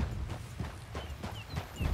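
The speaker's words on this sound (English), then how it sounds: "Okay, get on your horse." Horse hooves clip-clop in the Red Dead Redemption 2 video game, a steady run of muffled thuds at a trotting pace, fairly faint and close, with no talk over them.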